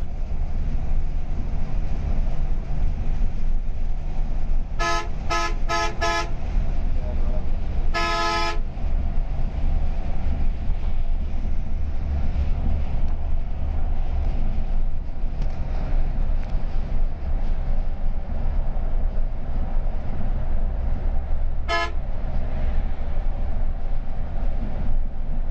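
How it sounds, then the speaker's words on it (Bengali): Inside a Hanif Enterprise Volvo B9R multi-axle coach with a rear engine, a steady low cabin rumble runs while it drives. A cluster of short horn toots sounds early on and a single toot comes later. "এই বাসটি চলতে চলতে আপনারা কিন্তু এখানে বাসের কেবিন নয়েজও শুনে নিতে পারেন।"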